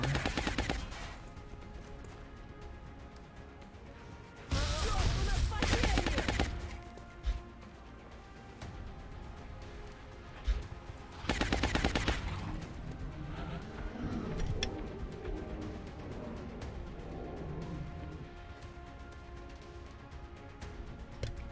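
Bursts of automatic weapon fire from the video game XCOM: Long War, two loud rattling volleys separated by quieter ambient game sound, with a few single sharp cracks in between.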